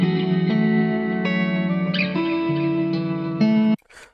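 A guitar beat melody made in FL Studio from a preset plays with added effects, sustained plucked notes ringing with spacious reverb before cutting off abruptly.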